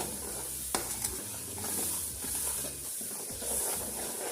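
Turmeric and dried coriander roasting in a pan for a chicken kofta curry: a steady close sizzle with scraping stir strokes and a couple of sharp spoon knocks on the pan, no talking.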